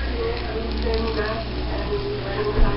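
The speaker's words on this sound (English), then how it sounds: "Now it's sizzling." A melted iPod, still hot and smoking after being destroyed, sizzles and crackles softly and continuously for a few seconds, with low background rumble.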